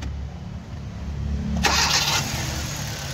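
A car engine is cranked and fires up after an ignition coil replacement, catching with a short burst over an already running hum, then settling into a steady idle.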